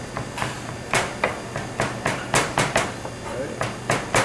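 Knife chopping and mincing garlic on a cutting board in a cafe kitchen, a series of sharp, fairly close taps in an uneven rhythm, some quick and clustered, with faint background voices.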